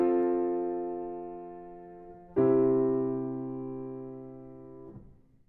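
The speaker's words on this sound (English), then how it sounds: "the Plagal cadence. This is chord 4 resolving to 1." Plagal cadence on a sustained, organ- or piano-like instrument: one held chord fades, then a second chord enters and rings out as the resolution from four to one, clear and close with no voices.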